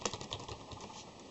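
Fingers type on an Arctic membrane keyboard, giving a rapid patter of soft, dull keystrokes heard close up and at low volume.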